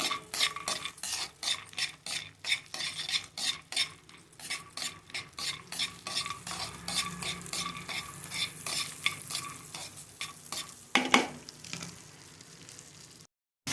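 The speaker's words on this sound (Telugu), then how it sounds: "జీడిపప్పుల్లో కొంచెం వెన్న వేసాను వేయించుకున్నాము" Cashew nuts frying in butter for carrot halwa garnish, stirred steadily with a spoon that scrapes and clinks against the pan in rapid repeated strokes over a soft sizzle, close and alone with no talking.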